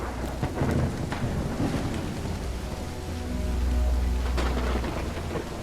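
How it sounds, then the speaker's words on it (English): Heavy rain pours down outside a mausoleum in the video game Call of the Elder Gods, a dense continuous hiss with a low thunder rumble swelling underneath and a few sharper splashes. "It's raining cats and dogs here."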